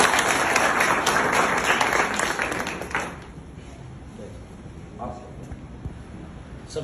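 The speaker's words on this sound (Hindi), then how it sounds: "जोरदार तालियां एक बार" A crowd gathered in a village courtyard claps loudly for a few seconds, the applause dying away into quieter ambient noise with a few scattered claps.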